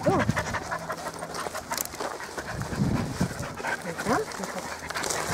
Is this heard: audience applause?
no